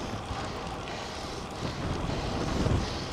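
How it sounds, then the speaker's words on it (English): Steady wind buffets the microphone outdoors on a bridleway in Wiltshire, a continuous low rushing roar that swells slightly toward the end, with no talking. "windy again today."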